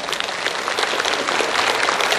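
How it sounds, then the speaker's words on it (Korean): A church congregation applauding during a Sunday worship service, many hands clapping in a dense, steady wash that holds at an even level for the whole stretch. "하나님께 영광의 박수 한번 돌려드리십시다."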